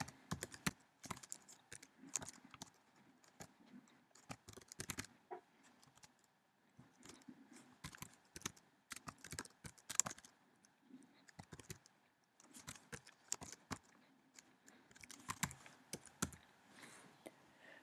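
LaTeX code being typed on a computer keyboard for math equations in iBooks Author: quiet, close clicking keystrokes in irregular bursts and runs with short pauses, no voice.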